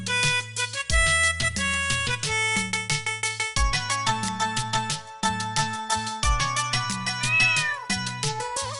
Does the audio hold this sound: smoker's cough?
no